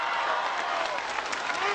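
An ovation from hundreds of people at a political campaign rally in San Salvador El Verde, a dense, continuous burst of clapping from a large crowd throughout.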